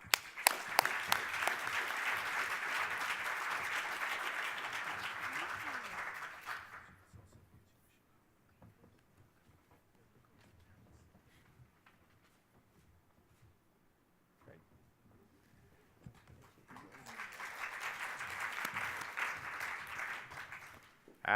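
An audience at an awards ceremony applauds an award recipient, a steady round of clapping that fades into near silence. A second burst of applause follows later.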